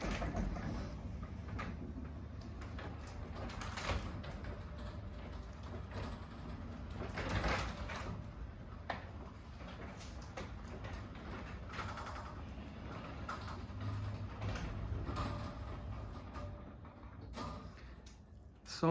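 A Marantec Mac Lift Delux garage door opener from 2005 raises the door with a steady mechanical rumble and rattling, running continuously and fairly quiet.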